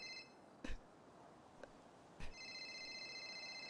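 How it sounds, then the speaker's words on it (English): Electronic phone ring tones in a video game chime in a short repeating pattern, broken by a couple of sharp knocks, fairly quiet overall. "Your phone is ringing."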